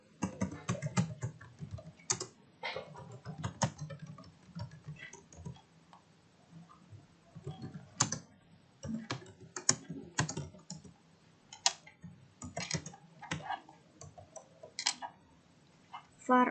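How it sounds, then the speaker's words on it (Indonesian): JavaScript code being typed on a computer keyboard, close and quick irregular key clicks in bursts with brief pauses, a voice speaking faintly underneath at times. "Setelah itu kita ketik scriptnya."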